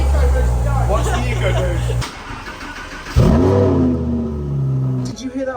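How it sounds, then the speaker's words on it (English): A van passes by outside on the street, a rising mid-pitched engine drone that swells loudly partway through and then fades, heard over nearby indoor conversation. "Did you hear that van go by?"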